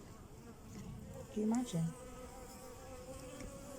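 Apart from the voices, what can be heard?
bees buzzing around hive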